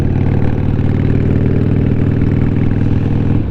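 A Harley Davidson 883 Iron motorcycle engine idles loud and close, a steady low throbbing rumble that holds evenly throughout with no voices over it.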